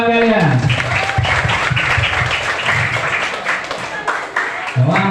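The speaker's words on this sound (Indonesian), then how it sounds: "Tepuk tangan buat teman kalian." Classroom of students applauding for classmates, a dense burst of clapping that holds steady for several seconds, with a child's or teacher's voice rising over it near the start and again at the end.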